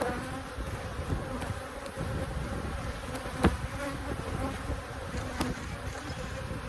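Honey bees buzz steadily inside a crowded hive box, a dense continuous hum with a few brief louder thumps, heard close up with no talking.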